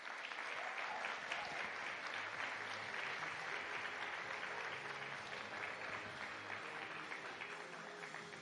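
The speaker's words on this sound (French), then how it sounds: "On l'applaudit." Continuous audience applause at an honours gala, a sustained even roar of many people clapping heard from a distance, fairly faint overall and with no voices.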